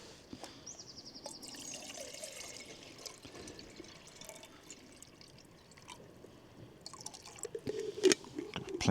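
Water is poured into a pot for boiling outdoors on a coastal hike, giving faint, intermittent trickling and splashing close by amid quiet surroundings and small handling sounds.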